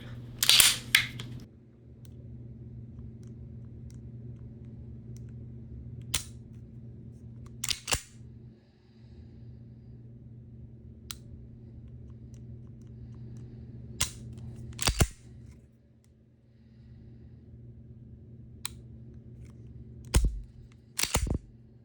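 Trigger of a Girsan Witness 2311 S Match pistol being reset and broken, sharp isolated clicks spaced a few seconds apart over a steady low room hum, some in quick pairs, close and crisp.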